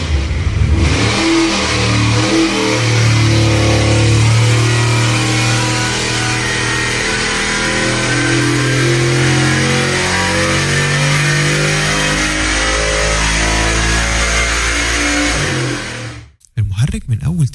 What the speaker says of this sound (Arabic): أنا عايزك بس تسمع صوت المحرك وهو على الداينو ده، صوت محرك V8 القوي